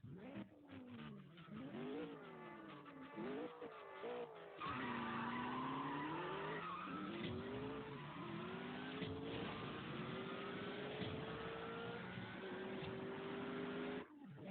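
Tires squeal and an engine revs in a racing video game as a Nissan car skids, with long sliding pitch sweeps and a loud sustained stretch after an abrupt jump, running continuously without talk.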